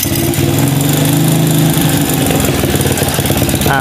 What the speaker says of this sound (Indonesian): motor ini hidup langsam ya